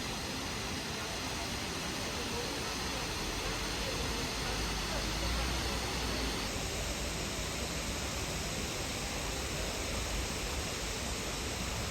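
A waterfall roars as a dense, continuous hiss that stays steady and fairly close throughout.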